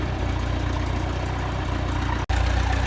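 A John Deere 2020 tractor engine runs at a steady idle, a low throbbing diesel chug, close and continuous, broken by one brief dropout near the end.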